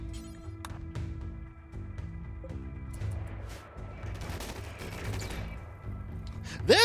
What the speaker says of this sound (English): You're firing already, excellent.